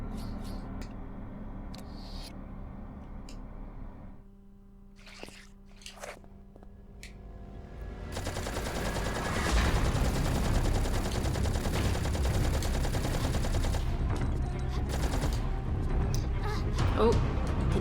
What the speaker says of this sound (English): So this is what I've been saving my Uzis for.